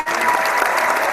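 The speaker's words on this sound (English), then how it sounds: "Can we get a round of applause?" A crowd gives a dense, steady round of applause, loud and close, holding level for the whole moment without a break.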